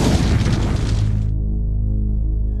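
Deep, heavy boom of the Santorini volcanic eruption, a loud rumbling blast that ends abruptly, leaving a low sustained hum that fades out.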